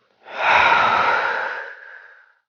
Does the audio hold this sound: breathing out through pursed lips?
yes